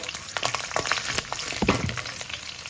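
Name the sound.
masala ingredients frying in a pan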